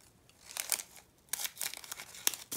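Paper being cut with scissors while sorting diamond painting drills, a few quick crisp snips and crinkles close by, in two short bursts with a brief pause between.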